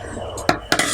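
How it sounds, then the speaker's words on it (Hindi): A utensil scrapes and knocks twice against a cooking pot while yogurt and chicken are stirred and mixed together, giving two brief, close clatters over a soft background sizzle. "सब डाल के अच्छे तरीक़े से मिक्स करते हैं"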